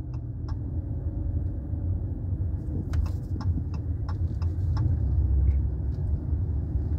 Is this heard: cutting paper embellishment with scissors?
no